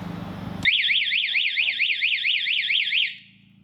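A car anti-theft alarm siren wails in a fast rising-and-falling electronic tone for a few seconds right after a brief voice and a double press of the remote lock, then cuts off.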